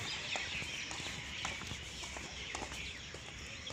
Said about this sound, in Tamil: பறவைகள் சத்தத்தை பாருங்கள்